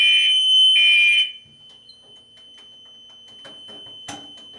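A fire alarm triggered from a pull station blares two loud electronic horn bursts close by, then cuts off, leaving a steady faint tone and scattered small clicks and handling noises.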